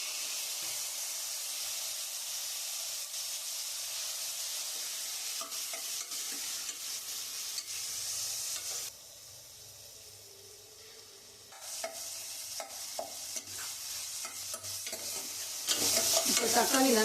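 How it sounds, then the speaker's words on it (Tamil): Tomatoes sautéing in a frying pan for a mutton liver soup, with a steady close sizzle and repeated scraping stirs; the frying fades briefly midway, then returns loud and continuous. "இப்போ தக்காளி நல்லா வதங்கிடுச்சு"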